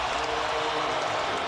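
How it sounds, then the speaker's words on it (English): An arena basketball crowd at a Trail Blazers versus Lakers game cheers and applauds in a steady, dense roar, with a commentator talking over it. "The crowd needed something to cheer about."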